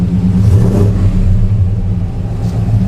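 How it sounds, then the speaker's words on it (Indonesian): A 1962 Chevy Impala with a full restoration and an Edelbrock engine revs loudly and steadily close by, a deep, continuous rumble that swells slightly without any talk. "Kita bejek gas lagi sampai 3000."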